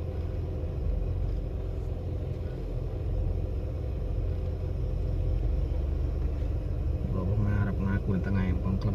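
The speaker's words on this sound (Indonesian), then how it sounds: "Macet ini bro." Low, steady engine and road rumble of a car crawling in a traffic jam on a seaside road along the Red Sea in Jeddah, heard from inside the vehicle while people talk over it.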